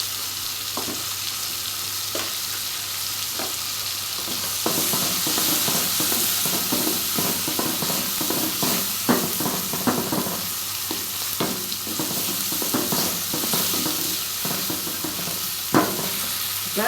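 Tomato and chili powder sizzle and fry in a pan for a brinjal and bean curry, with a constant hiss and repeated scraping clinks of a spoon stirring throughout.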